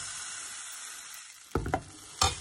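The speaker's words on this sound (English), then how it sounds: "now I'll start making the paratha. The pan, and here goes like the 1 big spoon of the batter." A big spoonful of paratha batter sizzling on a hot pan: a steady bright hiss, followed by a couple of dull knocks from the pan near the end.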